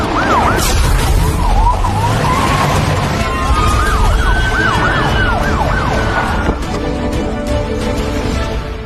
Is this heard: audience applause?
no